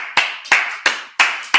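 Sharp, evenly spaced hand claps ring out during a Sabbath service, five crisp strikes in a steady rhythm about three per second, close and clear with no talking.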